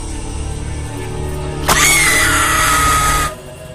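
A woman's loud, piercing scream erupts in a warehouse and holds for about a second and a half, sliding slightly downward in pitch, over a steady low rumble and hiss.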